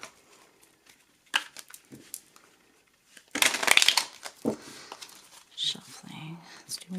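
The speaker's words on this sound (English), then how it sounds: "I'm gonna shuffle a little bit more" Tarot cards shuffled by hand in short crisp riffling bursts, the loudest flurry near the middle, with quieter rustles and faint handling sounds between them.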